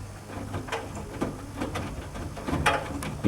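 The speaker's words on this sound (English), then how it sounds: "Basically all you can hear are the clothes banging around in the drum." Soft, irregular thuds and knocks of clothes tumbling inside the drum of a Miele Novotronic washing machine, quiet and muffled, with no motor audible and no talking.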